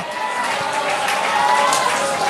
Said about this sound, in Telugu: చప్పట్లు కొడుతూ ఇంకొంచెం స్మరించు